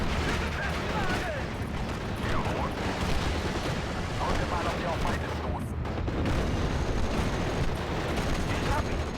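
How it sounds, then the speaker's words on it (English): Rapid gunfire and mechanical clatter fill a busy World War II battle in the strategy game Steel Division: Normandy 44 while an IG-18 infantry gun fires, with a dense, steady wall of reports and distant booms throughout and no clear single shot standing out. "I have the IG-18 here, so let's unload that."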